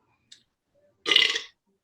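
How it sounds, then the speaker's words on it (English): One close, guttural burp of about half a second from a man drinking, preceded by a faint click. "that's that drunk burp."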